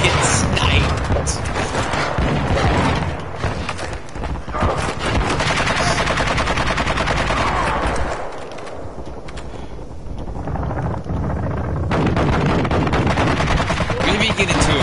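Gunfire in Modern Warfare 2 gameplay, loud dense bursts of shots and mechanical clatter with a brief quieter lull midway, while a voice talks over it.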